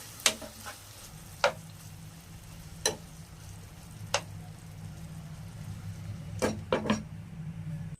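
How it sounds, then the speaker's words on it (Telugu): A spoon stirs prawn curry with ginger garlic paste in a pan, sharp scraping clinks at irregular intervals over a soft continuous sizzle. "5 నిమిషాల తర్వాత అల్లం వెల్లుల్లి పేస్ట్ 1 స్పూన్ వేసుకోవాలి. బాగా కలుపుకుని ఒక 5 నిమిషాలు మగ్గనివ్వాలి."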